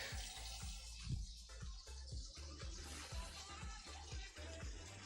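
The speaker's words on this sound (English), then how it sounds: "let's go ahead and rinse that off real quick" Water running from a kitchen tap to rinse food, a steady splashing hiss broken by a series of soft knocks and clatters from handling in the sink.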